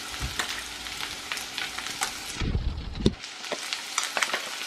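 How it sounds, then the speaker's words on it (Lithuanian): Chicken cutlets fry in a pan with a steady close sizzle and crackle, joined by a brief scraping stir midway, with no talking. "Po kelias minutės kepam kiekvieną pusę."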